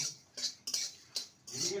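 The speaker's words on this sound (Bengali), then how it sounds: "এবার বাকি মশলাগুলো ঢেলে দিলাম" Whole spices for a jujube pickle tumble into a dry pan over a low flame, making a few short, close rattling bursts with brief pauses between them.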